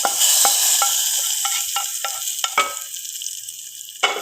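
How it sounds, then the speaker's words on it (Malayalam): Mustard seeds fry in a pan with a close, steady sizzle broken by quick crackling pops that thin out toward the end. "കടു വറുക്കുകയാണ്."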